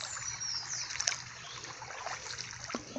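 A low, nearly dry creek trickles over stones outdoors, with a faint continuous babble and occasional small splashes, fairly close and steady.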